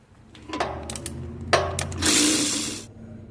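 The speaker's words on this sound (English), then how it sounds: "start taking these bolts out right here" A power tool whirs on the front drive shaft bolts of a 2011 Jeep Wrangler during a transmission removal, with short loud mechanical bursts close up, ending in a sustained high whine that cuts off.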